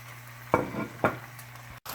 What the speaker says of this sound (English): we're going to add our bok choy to the pot